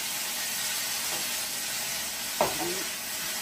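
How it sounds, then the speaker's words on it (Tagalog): Adobong kangkong stir-fried in a pan, a constant loud hissing sizzle with soft stirring, broken near the end by one sharp clatter of the utensil on the pan. "halo-haloin lang hanggang sa soft siya guys"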